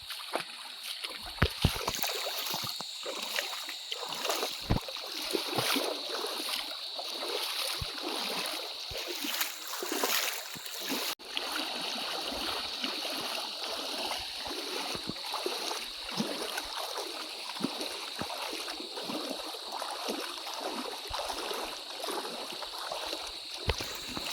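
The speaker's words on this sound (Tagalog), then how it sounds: "another river crossing na naman ito medyo mababaw na kaso parang yung current nito mas malakas yan oh" River current rushes and splashes around a vehicle crossing a shallow but fast-flowing river, a continuous close watery wash with scattered splatters throughout.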